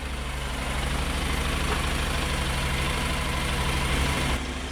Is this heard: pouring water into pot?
no